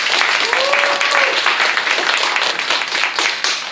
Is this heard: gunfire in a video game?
no